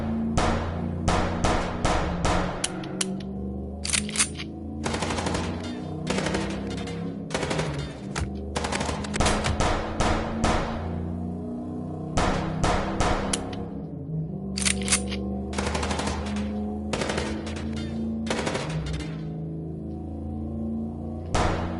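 Repeated bursts of automatic gunfire from a shootout, loud and close, in clustered volleys with brief gaps over a steady low engine-like hum.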